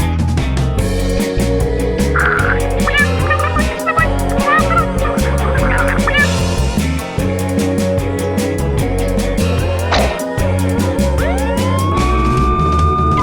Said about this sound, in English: The sirens on the fire truck go wah wah wah